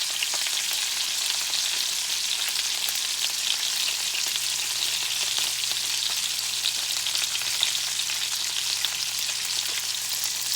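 Pork chops fry in a pan with a continuous, even sizzle and crackle at moderate loudness, with no voices.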